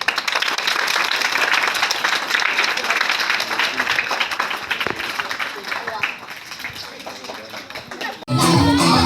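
A crowd of schoolchildren at a Bofmani school claps and cheers steadily, loud and dense throughout, ending with a sudden louder burst of voices.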